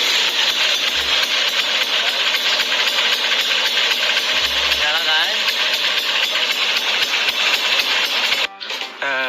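Vespa scooter engine running after a kick-start: a loud, steady, rattling two-stroke idle fills nearly the whole stretch, with a voice over it, before the sound cuts off abruptly near the end.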